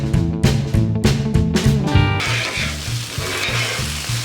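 Potatoes and yellow onion fry on a Blackstone griddle for a green chile hash, a loud steady sizzle with rhythmic scraping bursts in the first half, then continuous dense crackle close up with no talk.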